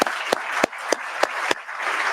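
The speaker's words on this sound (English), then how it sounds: "Will the audience please join me in a round of applause for our speaker?" A few sparse, separate hand claps ring out at a steady interval over a low room hiss, as an audience at an AI, security and ethics conference applauds a speaker; the clapping stays thin and near.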